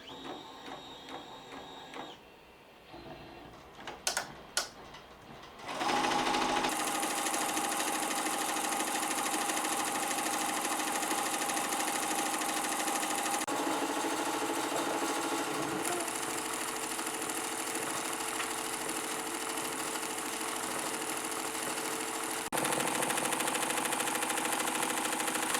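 A SEWTECH ST-1501 embroidery machine stitches a design onto a bag, a steady, loud mechanical hum and rapid needle rattle running continuously after a few clicks of buttons being pressed at the start.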